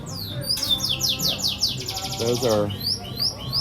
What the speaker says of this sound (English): real bird sounds from the birds